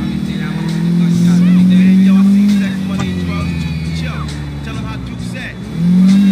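A car engine in Grand Theft Auto 4 revs loudly and steadily throughout, its drone rising and falling with throttle, while someone talks over it.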